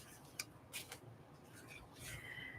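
Paper craft strip being cut out with scissors, a few soft close snips and rustles of paper, faint, with some quiet voice in between.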